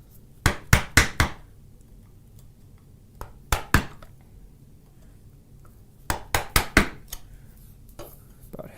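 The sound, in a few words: chisel being struck while cutting a wooden dovetail joint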